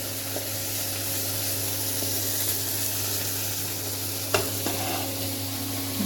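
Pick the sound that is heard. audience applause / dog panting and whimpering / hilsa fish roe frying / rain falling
hilsa fish roe frying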